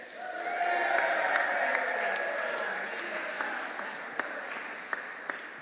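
Audience at a holiday pageant in a church setting claps and cheers after a Christmas nativity performance with a drummer girl, a steady wash of applause that tapers off, with a few scattered late claps near the end.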